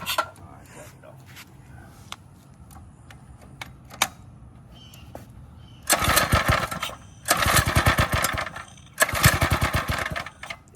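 Quiet clicking and mechanical ticking, then three loud bursts of a drift quad's engine cranking and sputtering as it sucks air through the carburetor, flooded, each a couple of seconds long, close by.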